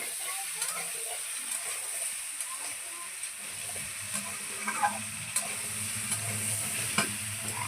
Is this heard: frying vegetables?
yes